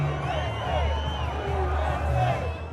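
Thousands of fans in a wrestling championship arena cheer for Donald Trump, making a steady, dense roar of crowd noise that swells slightly and never lets up.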